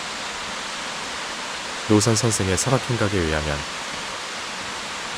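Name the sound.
Ssangyong waterfall in Seoraksan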